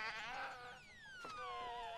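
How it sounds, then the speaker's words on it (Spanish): A sheep bleats in a wavering, quavering cry that trails into a long falling tone, loud and close with no talk over it. "¡Oveja!"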